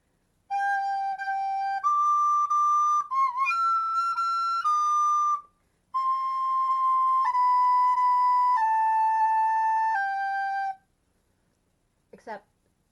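A recorder played badly, the way an elementary school classroom student plays it: shrill, breathy held notes with wobbly pitch and squeaky breaks between them, a short pause midway, then more sour sustained tones, loud and close.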